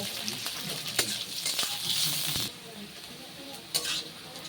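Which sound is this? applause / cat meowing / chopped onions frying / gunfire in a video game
chopped onions frying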